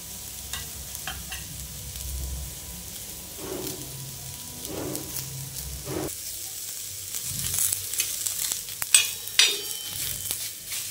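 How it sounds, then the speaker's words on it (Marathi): Chopped onions frying in a pan until reddish brown, a steady soft sizzle with occasional stirring scrapes and utensil clinks that grow busier toward the end. "आपण कांद्यांना छान लालसर भाजून घेऊया।"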